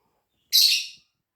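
A single short, high bird call rings out nearby, bright and sharp, lasting about half a second in otherwise silence.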